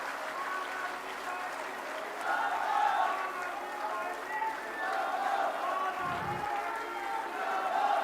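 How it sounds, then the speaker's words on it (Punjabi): A large crowd at a political rally applauds continuously, a steady wash of many hands clapping with some cheering swelling and easing throughout, fairly distant and without a break. "ਤਾੜੀਆਂ ਮਾਰ ਕੇ ਸਾਡੀ ਟੀਮ ਦਾ ਹੌਸਲਾ ਵਧਾ ਦਿਓ"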